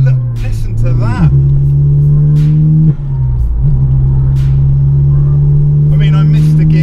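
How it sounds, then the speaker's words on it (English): A heavily modified 2010 Mk6 Volkswagen Golf GTI engine pulls hard under acceleration, a loud steady drone rising in pitch, dipping briefly at a gear change, then climbing again, close and continuous throughout. "I missed a gear, but that's fine. It's an absolute beauty to drive. It's so powerful."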